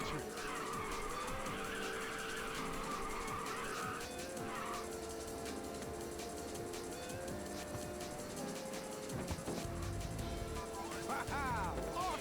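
A race car engine roars continuously in the Ridge Racer 2 video game, with tires skidding and squealing through corners across a sustained, loud stretch.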